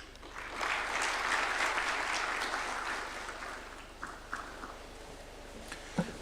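Sustained applause from an audience at a State House reception in Nairobi for the Harambee Starlets and Junior Starlets, swelling early and then fading into scattered claps.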